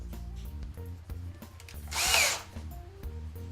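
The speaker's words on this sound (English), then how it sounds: "we're going to drill a small hole the size of our drywall screws." A power drill bores a small pilot hole through plywood, a short loud whine of the bit cutting in for about half a second, set against a busy background of music or room noise.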